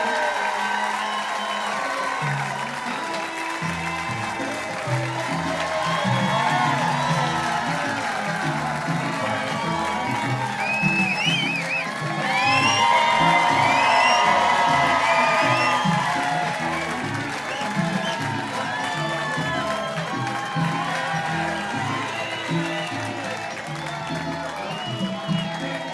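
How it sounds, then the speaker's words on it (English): Nightclub audience at Zanies Chicago claps and cheers steadily for a stand-up comedian taking the stage, a dense wall of applause with whoops that swells midway, with chatter and a host's voice mixed in. "Start clapping right now for Anthony"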